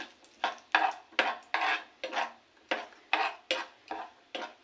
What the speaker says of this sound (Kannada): ಇದ್ರ ಜೊತೆಗೆ ನಾನು ಬಾದಾಮಿ ಕೂಡ ಮಿಕ್ಸ್ ಮಾಡಿ ಫ್ರೈ ಮಾಡ್ಕೊತಾ ಇದ್ದೀನಿ